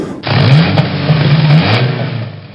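An Infiniti Q50 Hybrid with a 3.5-litre V6 engine revs loudly and close, its steady mid-pitched growl holding for about two seconds before easing off.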